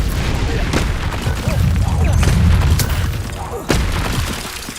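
Repeated fiery Confringo spell blasts in Hogwarts Legacy, booming and crackling amid busy combat noise, with one sharp burst near the end and a voice calling spells over the top.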